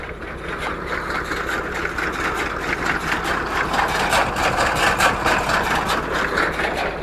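A mini 0850 baler pressing a haylage bale, its engine-driven mechanism chugging steadily with a continuous rhythmic rumble and clatter, close and unbroken, with no talk.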